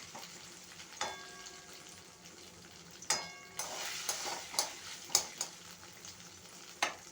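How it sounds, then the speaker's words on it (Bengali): Ginger sizzles in a pan of hot oil for a cauliflower roast, a steady close crackle broken by repeated sharp spatula stirs and scrapes that come faster toward the end, with no voices. "আদাটা তো ভাজা হয়ে গেছে"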